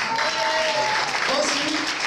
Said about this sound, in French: On applaudit très fort Loli.